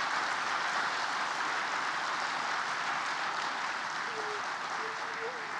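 A large audience claps loudly in steady, continuous applause honoring soldiers serving as army gunners, with faint voices calling out near the end.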